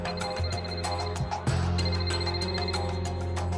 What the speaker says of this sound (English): And my phone rang.